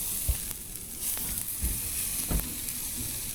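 Steak sizzles steadily on a hot cooking surface beside potatoes, a close, continuous frying hiss with occasional pops and clinks of utensils, no one talking.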